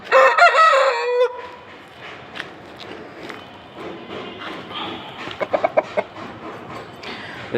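A black Aseel rooster gives one loud, close crow at the start, then quieter clucking, scuffling footsteps and light farmyard movement follow.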